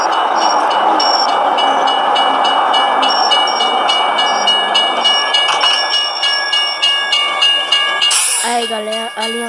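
Wagons of a game train in Euro Truck Simulator rumble along the railway line near a crossing, steady rhythmic clatter of wheels on joints, loud and close, with a sharp high tonal burst and warbling tones toward the end.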